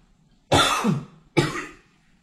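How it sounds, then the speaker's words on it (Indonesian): Two loud, close coughs, one after the other with a short gap, each a sharp burst that trails off. "Maaf teman-teman, saya batuk ya"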